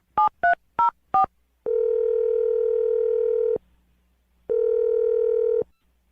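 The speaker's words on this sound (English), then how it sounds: "I'm going to dial her phone number right now." Four quick touch-tone beeps of a number being dialed, followed by two long steady telephone tones separated by a pause of silence.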